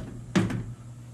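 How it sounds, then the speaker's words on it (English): Doors of an Intelitek Pro Mill, a benchtop CNC milling machine, slide shut in two quick close thuds a fraction of a second apart, fairly near, over a steady low machine hum. "now what I'm gonna do is I'm gonna close my doors."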